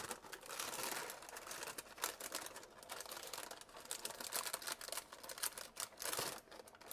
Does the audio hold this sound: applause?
no